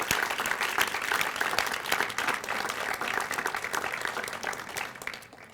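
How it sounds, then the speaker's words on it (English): An audience at a Head Start center ribbon cutting claps warmly in sustained applause that gradually tapers off toward the end. "Please give Dr. Bauder a big round of applause."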